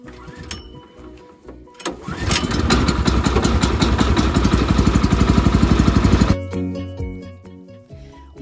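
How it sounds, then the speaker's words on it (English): A Woodland Mills sawmill engine on a chilly day: two sharp pull-start attempts, then it catches and runs with a loud, rapid, steady chug for about four seconds before cutting out. "Despite it being a very chilly day outside, the engine started in just 2 pulls."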